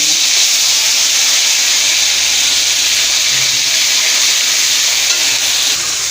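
Ground paste of coriander, cumin, green chilli and ginger dropped into hot oil with whole cumin for a prawn malai curry, sizzling loudly and steadily at close range with an even, unbroken hiss and no voices.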